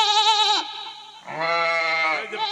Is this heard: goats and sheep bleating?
yes